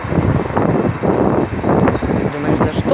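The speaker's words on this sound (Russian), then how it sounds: "О, какой ветер хороший." Wind rushes loudly past the microphone while cycling on a roadside in March, a continuous gusting buffet that fills the whole moment.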